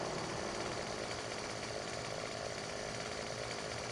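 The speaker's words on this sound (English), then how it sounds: "Bring out the old trusty dusty chainsaw." A chainsaw cutting a tree in Farming Simulator 17 roars continuously at full throttle, a harsh buzzing whine that stays loud and steady throughout with no voices.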